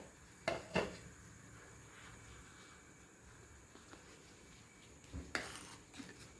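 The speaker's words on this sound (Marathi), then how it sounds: "झाकण उघडून बघू" A cooking pot lid lifted off a boiling pot, two sharp metallic clinks near the start and another clatter toward the end, with quiet bubbling between.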